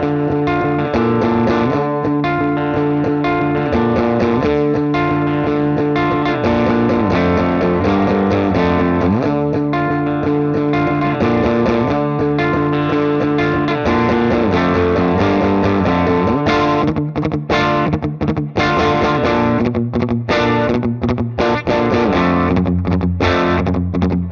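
Electric guitar played through an amp with no pedal, sounding crunchy from amp gain, with sustained chords and melodic lines that ring loud and continuous, with no talking.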